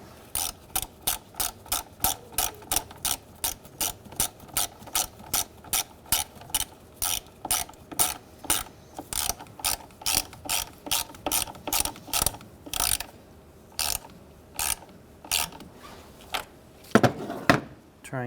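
Rapid ratchet clicks tighten the negative battery terminal on a 2003-2011 Honda Element, steady quick strokes repeating close up, slowing into a few scattered clicks and handling noises near the end.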